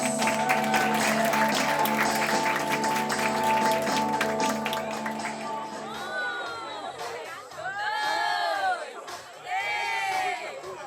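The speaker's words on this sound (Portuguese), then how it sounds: "Uma salva de palmas!" Wedding guests break into clapping and cheers after a song, the applause mixed with crowd chatter and a fading musical chord, then warbling whistles or vocal sounds rise over the crowd noise.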